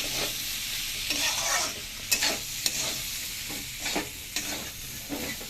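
Carrots, potatoes and beans fried with chili in a pan, a close sizzle broken by repeated sharp scrapes and knocks of a stirring utensil.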